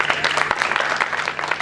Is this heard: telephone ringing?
no